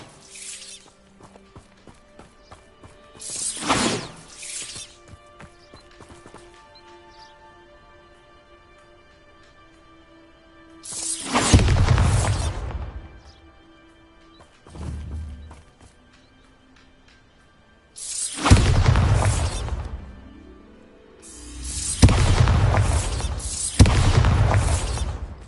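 Bombarda spell blasts in Hogwarts Legacy, several heavy booming bursts with deep rumbling tails separated by quieter gaps, loud and close, alongside softer game effects.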